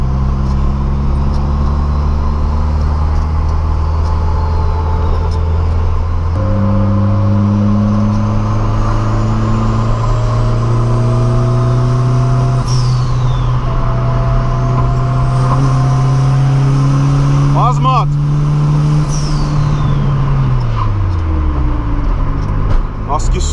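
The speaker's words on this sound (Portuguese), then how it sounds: "ter uma noção do barulho que o carro tá fazendo por causa do câmbio" A turbocharged VW Gol TSI with a long-ratio gearbox pulls hard through its gears, the gearbox whining in rising tones over a droning engine that climbs steadily, steps up at a shift, then drops off near the end, close and loud.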